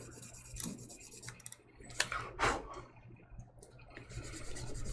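A blade rubs back and forth on a 1200 grit sharpening stone in short, uneven scraping strokes, close and fairly quiet, with brief louder rasps.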